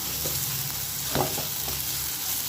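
Vermicelli khichdi vegetables with Maggi masala stirred in a pan, a soft steady sizzle with one brief scrape of a spoon in the middle, close and quiet, no speech.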